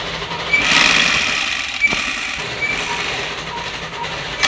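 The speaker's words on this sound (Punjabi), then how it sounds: "ਇਸ ਤਰ੍ਹਾਂ ਜਿਹੜੀ ਹੈਗੀ ਸਾਰੀ ਸਲਾਈ ਆਪਾਂ ਪੂਰੀ ਕਰ ਲਾਂਗੇ" Sewing machine stitching a child's collared co-ord set, a steady mechanical whir running through the clip with a brief clack near the middle, close and fairly loud with no talking.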